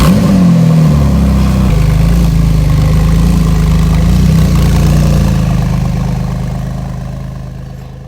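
A Porsche engine revs hard up close, then holds a loud, steady, throaty drone that gradually eases off toward the end.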